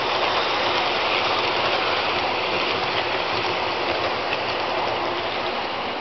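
Class 20 diesel locomotive running on the mainline, giving a steady, continuous rumbling drone with an even hiss and no distinct breaks.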